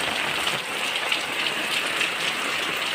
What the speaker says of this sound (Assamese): আজি বলক মানে বৰষুণ বতৰৰ ভিডিঅ' কৰিম আজি